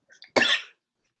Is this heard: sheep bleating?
no